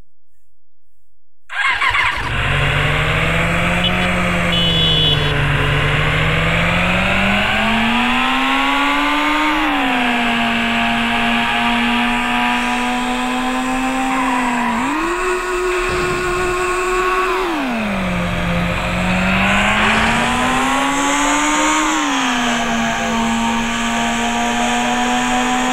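Bullet motorcycle engine in the Indian Theft Auto game, starting up and then revving repeatedly, its loud pitch rising and falling in long surges over a steady idle.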